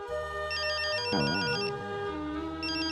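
A mobile phone ringtone for an incoming call plays in a household scene, a loud, melodic electronic pattern of repeating tones that continues for about three seconds without speech.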